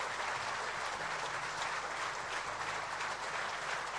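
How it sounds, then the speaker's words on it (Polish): An audience at a stage event applauds steadily, a dense continuous wash of clapping from many hands throughout, with no other sound standing out. "Wielkie podzięki i oklaski."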